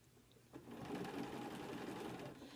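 Sewing machine stitching together log cabin quilt blocks with half square triangles, a steady close, continuous motor whir with rapid needle rhythm starting after a brief pause and running loud to the end.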